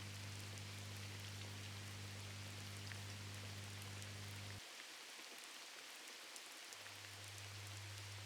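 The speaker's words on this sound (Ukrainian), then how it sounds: "дощ невгавучо хльоскає по вулиці Судзаку" Steady rain falls on pavement, a constant soft hiss with a low hum that cuts out briefly and returns.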